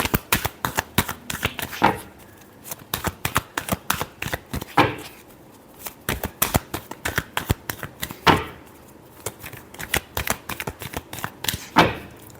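Tarot cards are riffled and shuffled close by in quick flurries of crisp, papery slaps. Each burst lasts a couple of seconds and is followed by a short pause.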